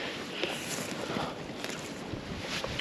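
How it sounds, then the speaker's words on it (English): Wind gusts under and around a four-season tent at a winter wild camp, making a continuous broad rushing roar with buffeting microphone noise, fairly quiet and steady throughout. "Wind's going right underneath that."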